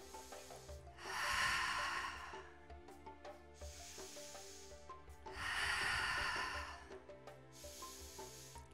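Slow, deliberate breaths during a pilates session, two long airy exhales with quieter inhales between, soft and close over light background music.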